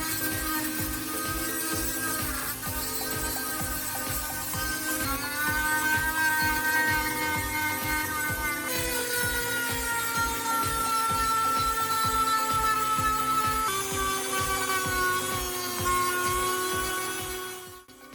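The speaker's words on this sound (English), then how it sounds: "Attach a polishing bit to a small rotary grinder and begin smoothing the handle surface." A small rotary grinder fitted with a polishing bit smooths the plastic handle of a pair of scissors, giving a steady high-pitched whine with shifting tone as pressure changes, close and continuous, fading out at the end.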